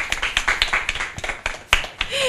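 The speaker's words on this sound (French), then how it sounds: "On applaudit Sloane." A small audience of children claps for a classmate after a book presentation, sparse uneven claps with distinct sharp hits scattered over a couple of seconds, fairly close.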